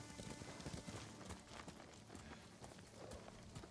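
Horse hooves clip-clop steadily in the Ghost of Tsushima video game, a continuous run of quick, fairly close hoofbeats with no talk.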